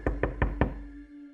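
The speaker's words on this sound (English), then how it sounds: "there was a knock at the door." Four quick, solid knocks on a door in an even rhythm, then a short fading ring, close by and clear.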